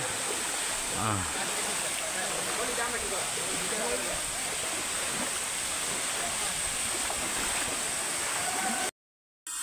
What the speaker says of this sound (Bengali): এত সুন্দর ঝর্ণা দেখতে পেয়েছি।